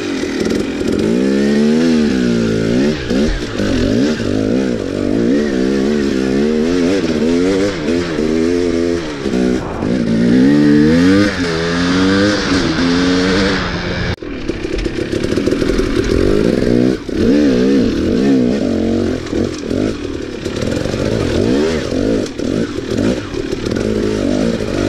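An electric Lectron motorcycle running low on fuel cruises along a road, its loud, steady drive sound rising and falling with throttle changes and a brief dip near the middle, with no talk.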